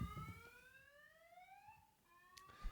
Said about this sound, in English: It's a car alarm.